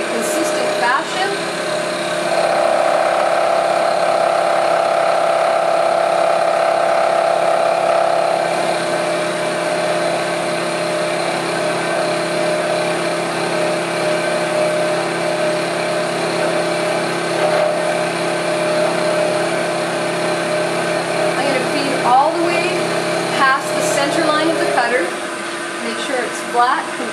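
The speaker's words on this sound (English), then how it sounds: "I'm now ready to machine. When I feed, I'm going to make sure I feed in a consistent fashion." A milling machine cuts metal with a steady whining, droning tone that holds through the whole stretch, with a brighter cutting tone early on and faint clicks and shifts near the end.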